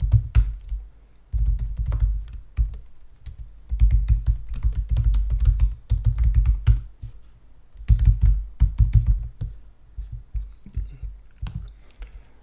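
Keys clatter on a computer keyboard while an online payment form is filled in, steady bursts of close, fairly loud typing with brief pauses and no talk.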